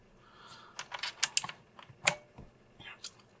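Typing on an onn. full RGB mechanical gaming keyboard with blue switches, a burst of sharp, clicky keystrokes in an uneven rhythm, close and fairly quiet, with no voice over it.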